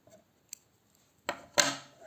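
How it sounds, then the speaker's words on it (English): Scissors snip yarn at the end of a crocheted earring, giving two quick, close cuts near the end, preceded by faint handling ticks. "cut the yarn"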